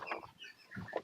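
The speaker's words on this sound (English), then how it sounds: "My chickens that are currently in my office." A few chickens kept indoors in an office give soft, brief clucks and murmurs, faint and close in a quiet room.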